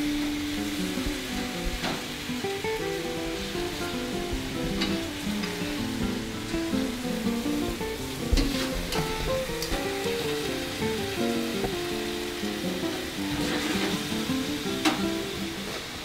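Chicken sizzling and frying in a pan just after being flipped, a continuous crackling hiss at moderate level with occasional spatters and stirring scrapes, no voices.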